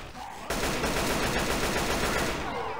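A heavy machine gun in Left 4 Dead 2 opens up and fires a dense, continuous burst of rapid, loud shots that lasts a couple of seconds without pause.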